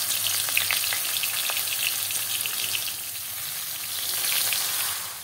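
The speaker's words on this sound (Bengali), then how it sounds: "কুমড়ো পাতা মোড়া আমি মাছগুলো সরষের তেলের মধ্যে আমি দিয়ে দিচ্ছি একটা একটা করে" Silver carp fillets wrapped in pumpkin leaves sizzle in hot mustard oil, a dense, loud, close crackle that rises and eases slightly while they are set in one by one.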